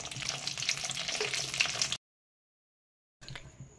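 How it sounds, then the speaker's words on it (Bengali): Potatoes frying in oil for a mutton curry, a steady, moderately loud crackling sizzle with some stirring that stops abruptly, then resumes after a short silence. "আলুগুলো কিছুক্ষণ ভাজতে দিচ্ছি"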